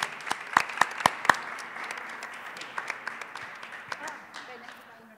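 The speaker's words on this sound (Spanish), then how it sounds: "El aplauso para él" Audience applause at a community culture gathering in Córdoba, opening with a few loud, sharp individual claps before settling into steady, moderate clapping from a crowd that slowly thins and tapers off.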